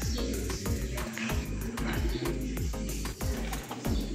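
Racing pigeons coo in soft, repeated low throbbing calls, close by and continuous, with a few sharper chirps and rustles among them.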